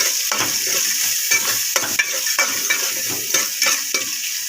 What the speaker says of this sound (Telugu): తగినంత పసుపు బాగా ఫ్రై అవ్వాలి